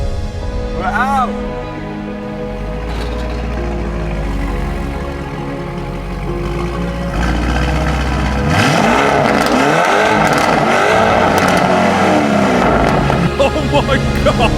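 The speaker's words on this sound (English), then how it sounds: "The Urus is driving out for the first time since the accident" A wrecked Lamborghini Urus with damaged suspension drives out, its engine rumbling and revving loudly up close with tyre and road noise, while people talk and exclaim over it.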